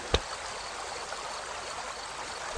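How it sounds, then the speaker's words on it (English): Steady rushing of a waterfall pouring into a pool in a clearing, a continuous even wash of water with no voices. "looking out over the pool and the waterfall beyond."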